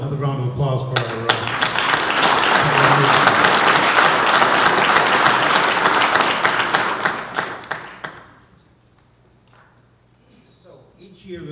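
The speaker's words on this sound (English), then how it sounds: "Another round of applause for our" A school board meeting audience breaks into applause, starting with scattered claps, swelling into a dense sustained ovation, then dying away to near silence before a speaker resumes.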